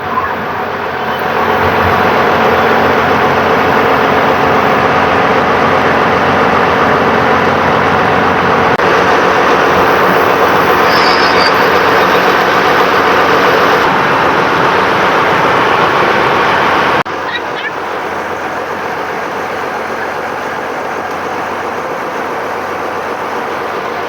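Steady heavy engine drone of a river launch ferry pulling away from the landing, loud and continuous at close range, dropping to a lower, quieter hum near the end.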